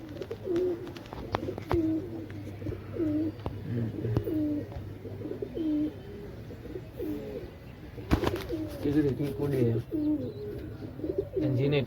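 Pigeons cooing inside a warmly packed pigeon house, repeated throaty coos close by in overlapping rhythmic phrases, with a few sharp knocks between calls.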